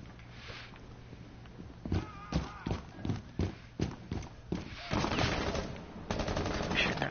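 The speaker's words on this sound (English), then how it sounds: "There is somebody shooting at me" Gunfire in the Rainbow Six Siege video game, a string of sharp shots in short bursts at irregular intervals, followed by denser, sustained noisy firing, with talk over parts of it.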